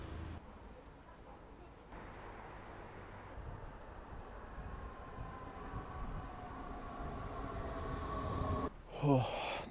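Train passing at a station in Düsseldorf, a sustained rumbling roar that builds gradually and ends with a brief squealing, screeching burst near the close.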